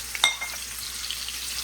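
Potatoes sizzle in avocado oil in a pan, a close, continuous crackling fry with a few sharper pops near the start and no talking.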